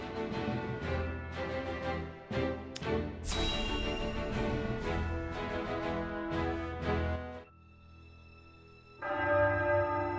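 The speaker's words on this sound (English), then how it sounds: "That's the bell at Ironstone. It's midnight." The Ironstone church bell in the Triangle Strategy video game tolls midnight, with loud, ringing strikes in steady succession over a sustained resonant hum, then a brief lull before a final strike.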